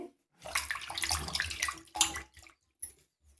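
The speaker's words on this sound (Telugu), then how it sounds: "టమాటో పండ్లు కానీ కడుక్కుందామని ఇదే నీళ్ళలోనే వేసేస్తున్నాం" Tomatoes are dropped and swished in a bowl of water during village-style gongura chutney preparation, a close burst of splashing and sloshing that stops, followed by a couple of brief drips and small splashes.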